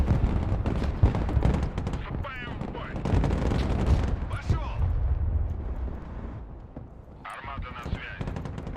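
Artillery and gunfire in the real-time war game Broken Arrow, with heavy rolling impacts and bursts of shooting throughout, loud and close, while someone talks over much of it.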